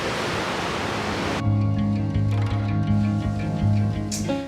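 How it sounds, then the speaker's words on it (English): Strong wind on a beach roars as a loud, steady rush across the whole clip, with a softer tonal background emerging beneath the gusts after the first second. "Oh, sorry about the wind, we are on the beach."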